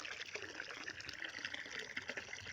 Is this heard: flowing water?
yes